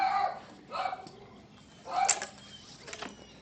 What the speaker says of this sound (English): For the record, that is not my dog.